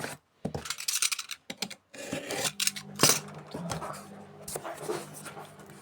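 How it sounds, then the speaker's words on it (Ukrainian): Packing tape is pulled and ripped off a box of plant cuttings in several short bursts of rasping, crackling noise, up close, with brief pauses between pulls. "Треба зняти скотч."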